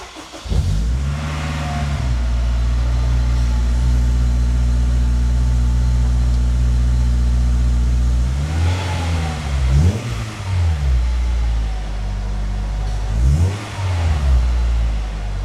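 A Honda S2000 engine idling with a steady low hum, broken by three sharp revs that rise and fall, loud and close throughout.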